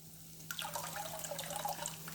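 Water pours steadily into a pot of paruppu rasam with a bubbling, splashing texture, starting abruptly after a moment of low hum and continuing to the end.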